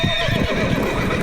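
A horse in a Hindi-dubbed South Indian action film neighs loudly over clip-clopping hooves, with a busy, dense soundtrack behind it.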